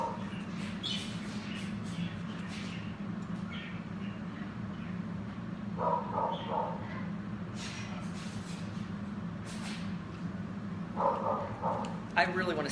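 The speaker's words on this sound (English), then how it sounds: "I really want to see what Snow's barking at" A dog barks in short bursts at a distance, two clusters of barks over a low rumbling background, with occasional birds chirping.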